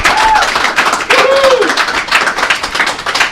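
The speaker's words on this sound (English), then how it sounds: "Resounding applause." Applause and clapping from a game-show audience, a dense burst of many hands sustained throughout, fairly loud and close, with some voices mixed in.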